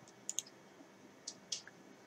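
Mouse clicks on a crop button in photo-editing software on a computer: two pairs of sharp, close clicks about a second apart, alone against a faint quiet room background.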